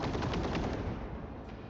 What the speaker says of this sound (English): Mag dump that array.